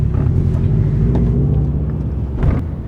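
A 2012 Subaru WRX fitted with a mild "gentleman's" aftermarket exhaust, heard outdoors as a steady, moderately loud low engine drone that holds even throughout, with no talking over it.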